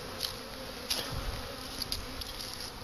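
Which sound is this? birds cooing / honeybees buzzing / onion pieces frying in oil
honeybees buzzing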